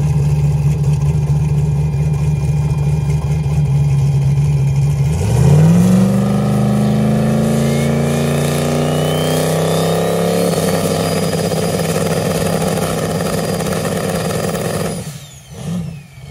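A roughly 1,000-horsepower drag race car idles with a lumpy rumble, then revs up sharply during a bump test and holds a loud, rising engine note before dropping off near the end.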